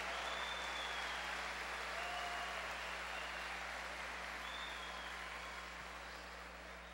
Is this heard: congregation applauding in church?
yes